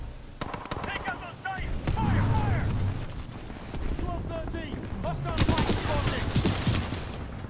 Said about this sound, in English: Hostile fire spotted!